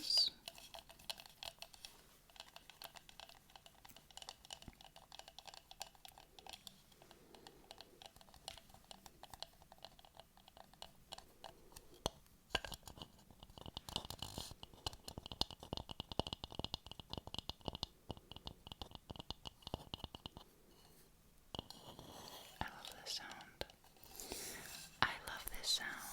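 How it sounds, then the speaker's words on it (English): Soft close tapping and clicking sounds into an ASMR microphone shift to a hollow, muffled tone once a fishbowl is placed over the microphone, then clear again, with quiet whispered speech at times. "When I put the bowl over top, the sound becomes very weird"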